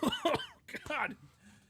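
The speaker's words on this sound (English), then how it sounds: "All this water's going on the wrong pipe. It's got me coughing." A man coughing after water went down the wrong pipe: a few quick, harsh coughs close to the mic, with a short throat-clearing burst after a brief pause.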